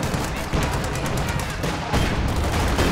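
Heavy explosive fire in the video game Company of Heroes 2, including mortar fire, as dense, loud, overlapping blasts and gunfire roll on continuously with sharper impacts recurring throughout.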